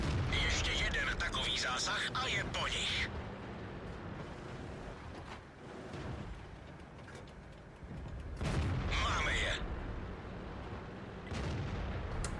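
Enemy gunfire in a tank video game crackles and booms as opponents shoot at an ELC light tank, with heavy bursts and rumbling shots that fade and return over steady background noise.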